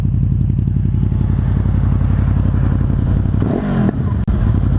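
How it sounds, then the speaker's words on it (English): A 2015 Honda VFR800X Crossrunner motorcycle idles close by, its exhaust putting out a loud, steady, pulsing rumble with a rough throb, plus a brief rise and a sharp pop near the end. "Listen to that exhaust, mate. That sounds lovely"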